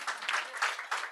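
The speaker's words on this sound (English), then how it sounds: "let's clap for ourselves for a wonderful thing" Applause from an audience at a European regional Freedom from Slavery forum: short bursts of clapping from a moderate crowd, fairly close, lasting about a second.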